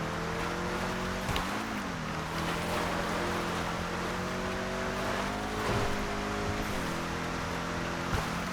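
A Vigero ZX races over dirt in a video game, its engine droning steadily with a few pitch dips and climbs as it shifts and revs, loud and continuous throughout.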